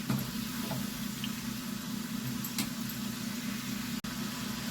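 Chana dal namak pare frying in hot oil, a steady low sizzling bubble running throughout with a few faint clicks, fairly quiet and continuous with no voices.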